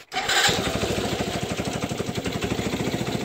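Small engine of a homemade go-kart idling nearby, a loud, steady, rapid chugging that starts up at once and keeps an even pulsing rhythm throughout.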